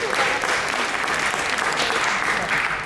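A preview crowd at a food and wine festival presentation breaks into steady applause, a dense, even clatter of many hands at moderate loudness sustained through the whole moment.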